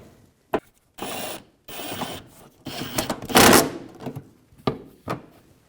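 A ratchet with a 10mm socket works a fender bolt on a 2009-2014 Nissan Maxima, giving bursts of quick clicking ratchet strokes separated by short pauses, close and fairly loud.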